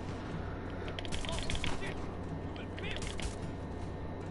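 Silenced gunfire in Uncharted: The Lost Legacy, a quick string of muffled pops and clatters over steady game noise, with a few denser bursts in the middle and near the end.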